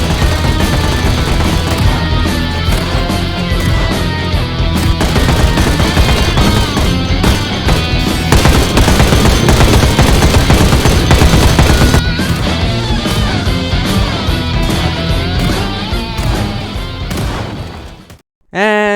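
Rapid, dense gunfire from the survival video game Project Zomboid, loud and continuous for most of the stretch before cutting off abruptly near the end, layered with game audio.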